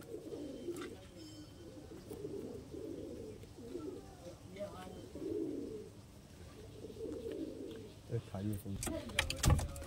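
Soft, repeated cooing of Golden Rampuri pigeons, low throaty phrases rising and falling at a moderate distance, with a person speaking intermittently and a few sharp clicks near the end.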